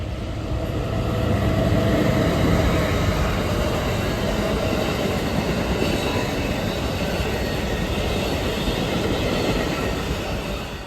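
Train rolling along a railroad track beside a rental house, a loud, steady rumble of wheels on rails with faint rhythmic clatter, close by and sustained throughout without any voices.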